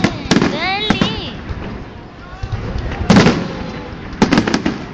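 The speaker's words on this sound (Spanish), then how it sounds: "El tronco y ahora explota y hace la palmera." Palm fireworks burst at Castell falles, three loud sharp explosions spread across a few seconds with whistling rising trails and crackle between, heard close with a lively crowd around.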